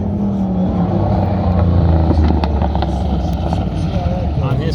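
A pro touring truck at full effort on a 2021 autocross course, its engine a loud, steady drone with shifting revs, heard up close under a running commentator's voice.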